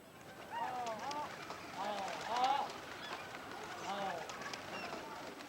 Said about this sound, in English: The breeders fly their pigeons from the roofs and try to lure the birds of other flocks to join their own.